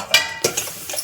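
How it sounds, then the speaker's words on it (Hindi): Dishes are washed at home in a kitchen, with a few sharp clinks and clatters of utensils spaced irregularly. They are moderately close, and nobody speaks. "पोछा लगाने के बाद मैं लग गई थी बर्तन धोने में।"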